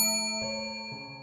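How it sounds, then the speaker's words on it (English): A concierge bell in the Little Nightmares 3 game is struck once, a bright ringing ding that decays, followed by a second softer tap as the tone fades. "Every time you ring that concierge bell,"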